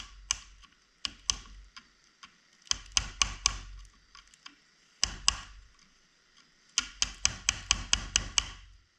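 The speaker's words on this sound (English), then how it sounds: "Now I'm rolling it around so I can actually chisel it off evenly all the way around it." A chisel is hammered against a differential tone ring on an LX Charger 300 Magnum axle, sharp metallic strikes arriving in quick bursts of several hits, close and loud, with short pauses between groups.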